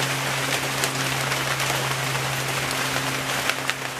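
Steady rain falls all day in Costa Rica, a constant close hiss of drops on surfaces with a faint low hum beneath and no voices.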